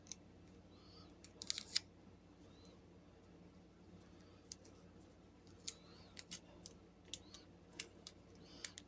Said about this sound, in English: Cut that at an angle.